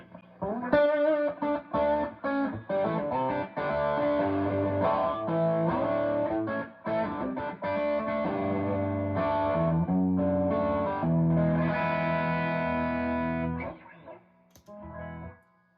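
Distorted electric guitar through a 30-watt Class A Ceriatone tube amplifier, playing chords and riffs continuously for about fourteen seconds, loud and driven with heavy crunch, then ringing out into silence.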